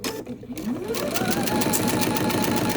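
A sewing machine runs steadily while stitching Christmas quilt pieces from fabric scraps, its fast, even motor hum and needle chatter continuous and close throughout after a brief quieter start.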